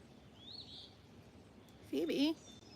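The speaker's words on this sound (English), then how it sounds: "That's an Eastern Phoebe telling us its name." An Eastern Phoebe calls faintly once near a greenhouse, a brief high slurred note, followed by a louder burst of close human voice that briefly dominates.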